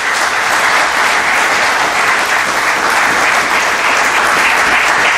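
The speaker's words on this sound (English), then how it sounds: "Give Him another good round of applause." Steady, dense applause from a large church congregation fills the whole stretch, loud and sustained without a break.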